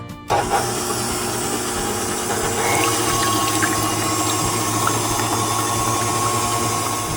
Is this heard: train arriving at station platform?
no